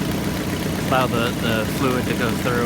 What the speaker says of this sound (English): We're going to let the engine run until it gets up to full temp.